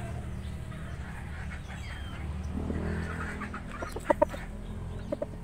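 A few soft clucks from a gamefowl chicken in a backyard pen, set against a low steady hum and murmuring background, followed by two or three sharper, louder cluck notes near the end.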